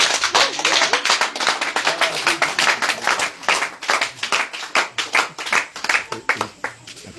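A church congregation claps together to acclaim the Lord during a Holy Spirit worship service, a dense, steady run of rhythmic handclaps filling the room, with voices mixed in underneath.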